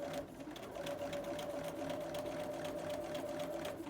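A sewing machine runs steadily at close range, backtacking stitches along a ruler, with a continuous mechanical hum and rapid needle ticking that stays even throughout with no pauses or speech.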